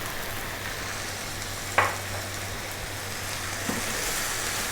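Garam masala, turmeric, coriander, cumin and chili powder frying in a pan for a beef curry, an even close hiss of sizzling with one sharp spoon tap and a faint scrape.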